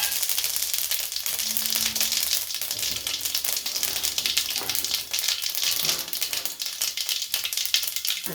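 Fenugreek, mustard seeds, cumin and fennel sizzle steadily in hot coconut oil in a pan, a continuous close crackle with scattered small pops throughout.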